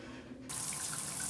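Tap water running for a Samoyed dog's bath starts suddenly and continues as a steady, close hiss and splash.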